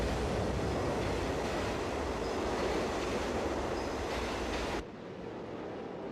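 A subway train rumbling along the tracks with a steady, loud roar and faint wheel squeal that cuts off abruptly near the end, no voices heard.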